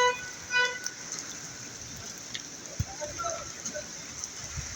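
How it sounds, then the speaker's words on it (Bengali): Rain falls steadily in Saudi Arabia, a soft broadband patter that runs through the whole stretch at moderate level. A few brief tonal blips and the odd louder drop stand out. "অসাধারণ বৃষ্টি পড়তেছে আমার উপরে, পুরো বৃষ্টি পড়তেছে।"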